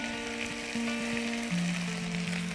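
Chilli vinegar splashed into a hot pan with Schezwan chutney for black grape chicken, a steady close sizzle that swells in two small steps as the liquid hits, alongside a faint steady hum.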